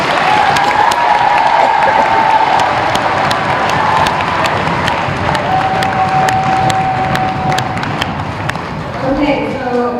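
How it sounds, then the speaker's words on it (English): Audience applause at a school geography bee: a dense, sustained clapping crowd fills the hall for the full stretch, steady and loud, with a faint tone humming partway through and no clear speech over it. "And audience, a big round of applause for Jack."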